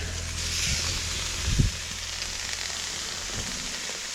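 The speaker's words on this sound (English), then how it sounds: "Green chilies are cooking up nice." Steaks and green chilies sizzling on an outdoor grill, with a soft steady sizzle throughout and a brief low thump partway through.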